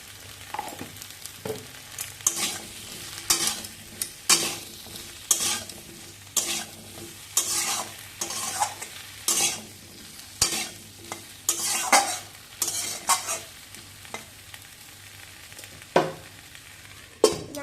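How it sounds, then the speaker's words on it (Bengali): Chopped okra (bhindi), salted, being stirred and fried in a pan for aloo bhindi, with repeated scraping stir strokes over a steady low sizzle, close and moderately loud, no talking. "এবার এর মধ্যে দিয়ে দেবো কেটে রাখা ভেঁড়ি"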